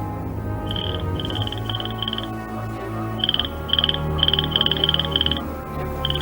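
A small red-bellied frog croaks in rapid bursts, repeated trilling calls in two clusters over a low ambient background, close and clear with no voices.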